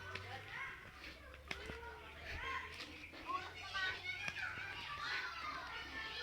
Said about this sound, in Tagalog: naririnig nyo no guys yung mga ano ng mga bata. Ingay na ng mga bata.